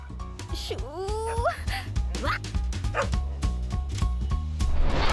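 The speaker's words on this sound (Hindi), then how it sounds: "ये हमारे पड़ोसी मिलिट्री मैन का कुत्ता है" A dog barks and yips repeatedly with rising whines, close by, over a steady background hum, with a voice mixed in.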